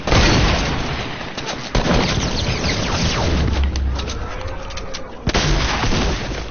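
Gunfire in a zombie video game: loud, dense bursts of shots and booms, continuous with brief gaps, a few sharp heavy blasts standing out.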